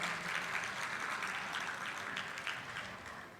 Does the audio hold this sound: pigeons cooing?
no